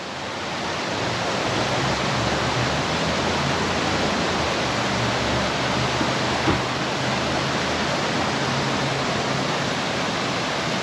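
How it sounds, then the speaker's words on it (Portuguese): A waterfall roars in a steady, dense rush of white water, loud and unbroken throughout, with no voices. "vai sentir ali a baforada da cascata"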